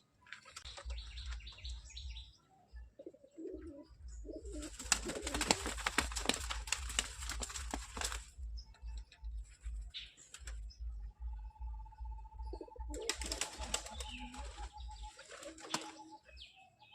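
Domestic pigeons, including Lotan birds, in a loft: soft repeated cooing and chirps with occasional bursts of wing flapping, fairly faint and close, with no talking.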